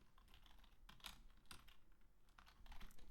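Faint, quick keystrokes on a computer keyboard tap out in irregular bursts, close and quiet, with no voices over them.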